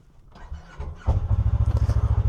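A Kawasaki Teryx KRX4 1000 side-by-side cranks briefly and then catches, its engine settling into a loud, steady, pulsing idle close by.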